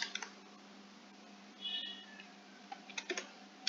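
Keys clatter in short, light bursts over a steady low hum, with a quiet stretch before a final cluster of taps on a computer keyboard.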